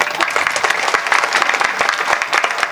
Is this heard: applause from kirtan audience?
yes